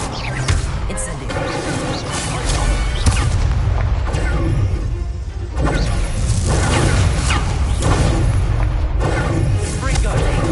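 Spell blasts in the Hogwarts Legacy video game: loud, continuous booms, whooshes and crashes of magic combat filling the whole stretch, with a voice calling out spells over them.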